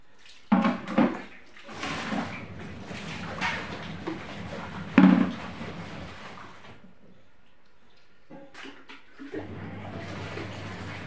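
Cleaned household items are rinsed in clean water, with splashing and sloshing in bursts, a few clattering knocks, then a quieter pause and a steady running flow near the end.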